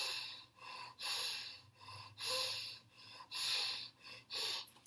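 Slow, steady breaths held in a yoga pose, audible as five rhythmic airy inhale-exhale cycles close to the microphone, each a soft rushing swell with brief pauses between.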